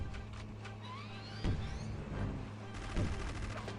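Turret gunfire from the video game Conker's Bad Fur Day comes as faint, rapid bursts of shots under a low background hum, with a couple of slightly heavier impacts.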